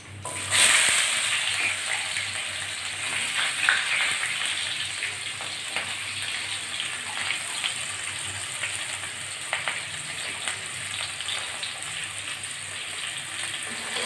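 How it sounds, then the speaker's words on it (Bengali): Chopped onions dropping into hot oil with nigella seeds in a kadai, a loud sizzle bursting up at the start, then a long, even, rain-like frying hiss with faint occasional stirs, close by. "প্রথমে একটু কালো জিরে ফোড়ন দিচ্ছি এবার দিয়ে দিচ্ছি কুচিয়ে রাখা পেঁয়াজ"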